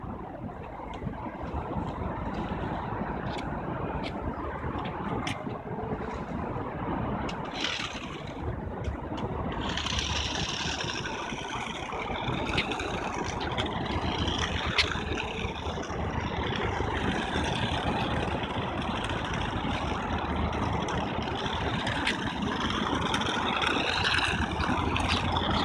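A radio-controlled toy car, steered by sip-and-puff breath control, drives with a steady whirring motor drone that continues throughout, with no talk.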